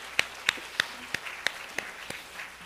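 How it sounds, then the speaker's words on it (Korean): A church congregation at a festival worship service claps in scattered, sharp handclaps, about eight distinct claps spaced roughly a third of a second apart, fairly quiet. "하나님께 박수의 영광."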